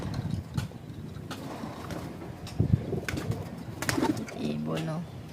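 Pigeons cooing at moderate distance in low, repeated calls, mixed with outdoor background noise and someone speaking briefly.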